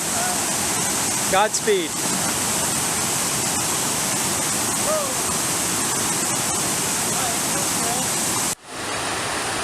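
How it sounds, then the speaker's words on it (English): A waterfall right beside a trailside campsite in the Sierra backcountry roars as a loud, constant wash of white noise, with a brief spoken word near the start. "Okay, this is our campsite for tonight, right next to this waterfall."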